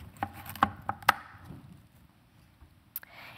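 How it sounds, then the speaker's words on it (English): A kitchen knife cuts the stalks off a fennel bulb on a cutting board: a quick run of sharp, close chops early on, a pause, then one more crisp chop. "I'm just going to cut off the stalks"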